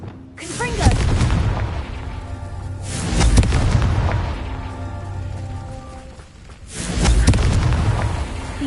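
Confringo explosive spell from a Harry Potter video game goes off three times, each a loud booming blast with a rumbling decay, spaced a few seconds apart.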